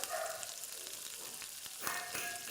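Cut potatoes hit a hot pan for aloo kurma and sizzle, a soft, steady frying hiss with a brief stirring scrape, no voices.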